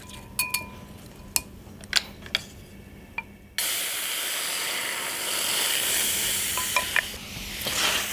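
A whisk stirring milk, flour, salt and pepper in a pan on the stove: a few light metallic taps against the pan, then a steady close hissing swish that continues to the end.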